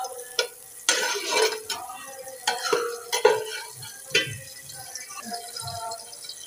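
Rice with green chillies fried in plenty of butter in a pan, stirred with a spoon: repeated scraping strokes and clinks against the pot over a soft sizzle, close and uneven in rhythm, with no talking.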